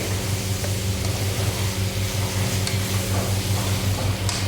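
Sliced bitter gourd being stirred and fried in hot oil in a pan, a steady close sizzle with a low rhythmic hum beneath and occasional light scrapes of the spoon.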